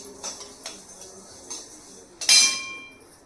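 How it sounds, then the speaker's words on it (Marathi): Sesame seeds being stirred and roasted in a pan while making gul poli, giving light clinking ticks at a steady pace that rise into a louder, bright scraping rattle near the end. "तीळ आपल्याला सारखा हलवत राहायला लागतो"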